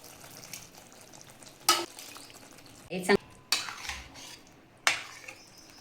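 Chicken pieces fry in an onion, garlic and chutney masala, a steady sizzle broken by several sharp scrapes and clatters of a spoon stirring against the pan, close and clear with no talking.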